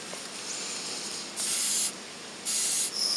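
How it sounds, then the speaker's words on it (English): Hairspray sprayed into a potato cannon chamber, two short close hissing bursts from an aerosol can, each about half a second, over faint background noise. "put a bit of hairspray in."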